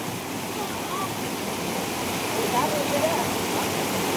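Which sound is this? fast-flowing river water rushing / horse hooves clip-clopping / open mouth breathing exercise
fast-flowing river water rushing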